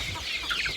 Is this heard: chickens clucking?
yes